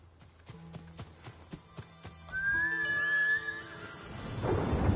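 A horse in the game Ghost of Tsushima gives a loud tonal whinny in the middle, after a run of sharp, regular hoof clops, followed by rushing, noisy motion.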